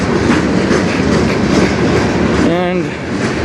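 A CN train rolls past on the Strathroy Subdivision at dusk, steady loud rumble and clickety-clack of railcars close by, with a brief wheel squeal partway through.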